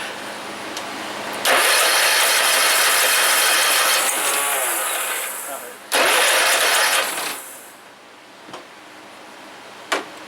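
A John Deere RX75 lawn tractor engine cranks loudly in two long bursts with a pause between, sputtering without catching, followed by quieter clicks and knocks.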